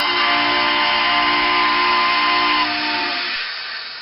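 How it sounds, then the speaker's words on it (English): A steam engine's whistle on a model railway sounds as one loud, sustained hissing tone that holds for about three seconds before fading; separate blasts cannot be made out, and no one speaks. "But then they heard 3 whistles."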